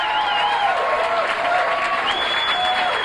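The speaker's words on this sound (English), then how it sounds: "How about a nice round of applause?" Audience applause at a stand-up comedy show at Laughs Unlimited in Sacramento, a dense, steady wash of clapping with some cheering mixed in, loud and sustained throughout.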